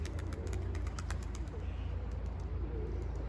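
Pigeons gathered on the ground coo softly and chirp at low volume over a steady low rumble, with faint sharp ticks scattered throughout.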